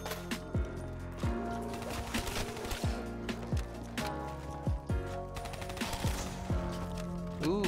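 LCAR 9 submachine gun firing in Call of Duty Black Ops 3 Zombies on Nacht Der Untoten, steady bursts of gunfire over continuous game music and effects, with sharp sweeping impacts and zombie noises at a moderate level.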